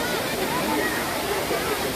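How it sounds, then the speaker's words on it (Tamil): Rain floodwater surges over a check dam after heavy rain in Tamil Nadu, a loud continuous roar of rushing water with a news reader speaking over it. "கனமழை காரணமாக வாழப்பாடியில் கோதுமழை தடுப்பணை, கோபி அருகே கொடிவேரி தடுப்பணையில் மழை நீர் ஆர்ப்பரித்து செல்கிறது."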